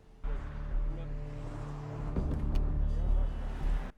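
A Ford Escape drives in a scene from the TV series Dexter, its engine a low steady rumble that swells slightly as it moves, close and continuous with faint music underneath.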